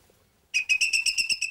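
A small bird-call whistle worked like a little bellows starts after a short silence, then gives a steady series of about eight pulsing, high, tonal chirps, close and clear with no voices.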